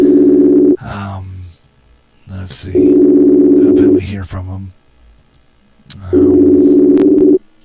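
A telephone ringback tone repeats on a call routed through a radio program, steady buzzing rings of over a second each separated by pauses, loud and close, with someone talking in the gaps.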